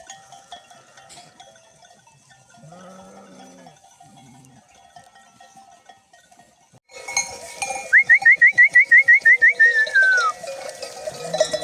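Sheep in an Anatolian village at dawn running toward water, quiet rustling at first, then louder movement with a rapid series of bright whistled notes cutting through.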